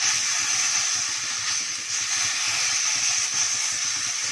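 Okra coated in masala stir-frying in a hot pan makes a steady, loud sizzling hiss with faint scraping underneath, continuous and unbroken.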